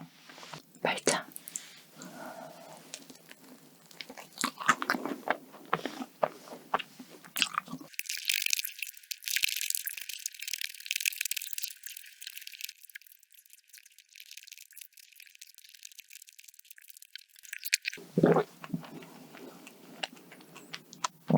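A matcha cream croissant is bitten and chewed close to the microphone, with flaky crunches and soft squishy chewing in irregular bursts. Quiet whispered speech comes and goes around the bites.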